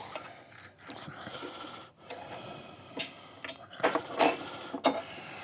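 A ratchet loosens bolts on machinery during shaft alignment shimming work, giving sparse, close clicks and metallic ticks in short irregular bursts with quiet gaps between them.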